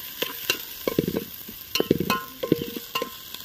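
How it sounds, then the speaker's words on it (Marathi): Thick goda masala paste sautéed in oil for chulivarch chicken, with repeated stirring scrapes and soft sizzling bursts, close and fairly loud, no talking. "हा मसाला मस्त असा त्याच्यामध्ये परतून घेतलेला आहे तेल सुटतं आहे"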